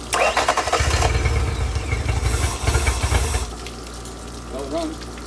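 A Yamaha 50HP outboard motor, tested wet, cranks and catches in a loud rough burst, then settles to a lower idle after a few seconds, with people talking nearby.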